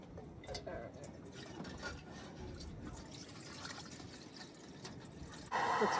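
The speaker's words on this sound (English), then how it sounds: "I'm going to get some water in the pot." Water runs into a cooking pot at a campsite beside a car, a steady pouring and trickling wash that holds for several seconds and swells louder near the end.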